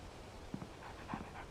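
Max, a groggy dog in Alan Wake, lets out two short, soft whimpers with faint panting between them, close and quiet against a low room hum.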